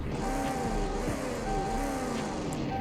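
Engine of a 2013 Bullhorn Prancer WSP car in the video game Greenville, a steady idling drone with slight pitch wavers, close and moderately loud, without talk.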